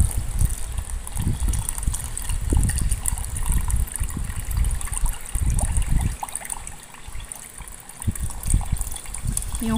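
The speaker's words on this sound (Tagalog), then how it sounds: "buhos po natin yung water." Water poured into a mixture for Milo jelly made from leftover bread, condensed milk and five cups of water, a continuous close trickling and splashing stream with a low hum underneath and no talk.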